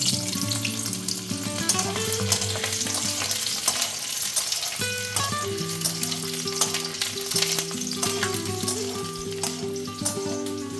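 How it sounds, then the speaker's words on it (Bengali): A garlic clove frying in a pan for a bean mash, a steady close sizzle with occasional crackles that runs throughout under background music. "একটা কোয়া রসুন আমি দিয়ে দিয়েছি ছালি এবার এটাকে ভেজে নেব"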